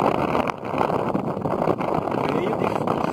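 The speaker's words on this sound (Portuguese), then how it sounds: "Vento, vento, vento forte." Strong wind gusting over open water on a fishing outing among river islands, a steady broadband roar buffeting the microphone throughout, with someone talking over it.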